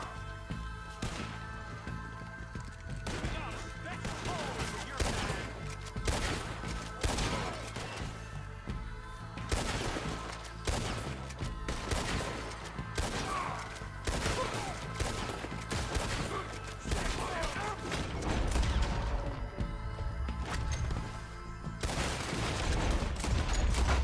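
Gunfire from Red Dead Redemption 2 crackles in a long, sustained fusillade, shot after shot in irregular bursts with loud reports and crashing impacts throughout, and the intensity stays high to the end.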